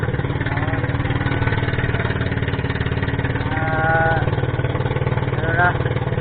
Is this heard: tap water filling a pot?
no